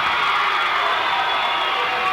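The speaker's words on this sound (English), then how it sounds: "Yeah, they got the crowd going." A crowd at a high school wrestling match between Del Oro and Rocklin cheers and shouts in a dense, steady roar that holds loud for the whole stretch.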